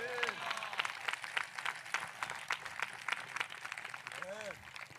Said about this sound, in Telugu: మీరు చప్పట్లు కొట్టినప్పుడు యేసయ్యకి స్తోత్రం అని ఉంటే కూడా బాగుండేది కదా.